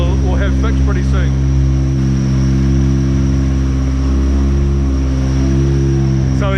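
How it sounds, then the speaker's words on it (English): Honda K24 engine running on a dyno in a DC5/RSX, loud steady drone with a constant high squeal from a worn tensioner bearing, someone talking over it throughout. "The tensioner bearing's worn out. Colin's going to chuck a new one in, so that squealing, which is super annoying, we'll have fixed pretty soon."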